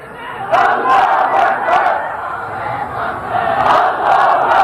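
A large crowd at a Bangla religious sermon gathering roars a takbir chant in unison, loud and sustained across the whole stretch with swelling surges of massed voices and no single speaker.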